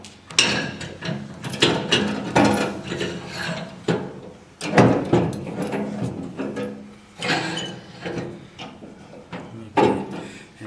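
Clamps being tightened on a grinder fence while setting up a bedknife produce repeated bursts of ratcheting, grinding mechanical clicks, close by, with short pauses between turns.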